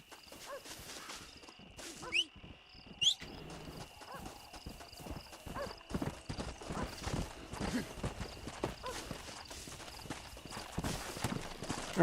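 A horse's hooves clip-clop rhythmically in Red Dead Redemption on PS3, with two sharp whinnies early on and galloping beats building louder toward the end.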